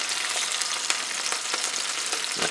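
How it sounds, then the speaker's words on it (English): Shelled, deveined shrimp with the tails off fry in oil in a pan over medium-high heat, making a loud, steady crackling sizzle with small pops throughout. "we're going to put our shrimp in, tails off, deveined. These will cook quickly"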